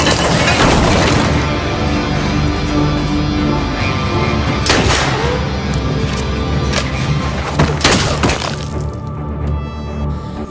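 Dense film-scene battle chaos with blind gunfire: sharp cracks and crashing bursts over a constant roar, several loud impacts standing out, with no talking.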